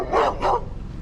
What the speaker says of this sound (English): І тут вообще злий пес.